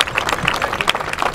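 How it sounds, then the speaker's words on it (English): Onlookers at a street busker's show applaud a young volunteer, giving brisk, close clapping with scattered crowd noise and sharp individual claps through a short burst. "give this young girl a massive round of applause for being such a great volunteer"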